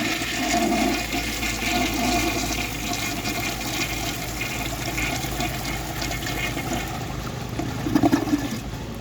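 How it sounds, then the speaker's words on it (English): A 1999 Crane Galaxy toilet flushes with a loud, continuous rush of water that swirls and gurgles for several seconds and then shifts into tank refilling. "So I guess I'll flush this one last time before I move on."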